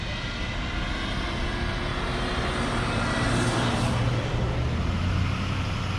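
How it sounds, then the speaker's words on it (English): Continuous road traffic noise near a hospital, a loud, steady roar of passing vehicles with a swelling engine drone midway and no talk. "I don't know how it's going to work out with all this road noise"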